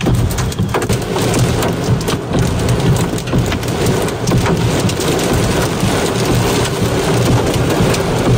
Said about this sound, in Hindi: बहुत तगड़ा थंडरस्टॉर्म आया है यहाँ पे अभी इस टाइम, कहते हैं ओले भी पड़े हैं खूब सारे।